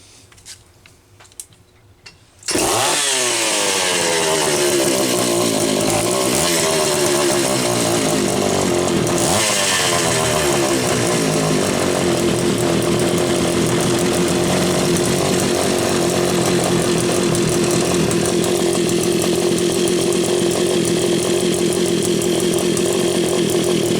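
Homelite Super XL-925 chainsaw starts after a brief quiet stretch, then runs loud and steady close by, with a few revs rising and falling early before holding a constant high idle.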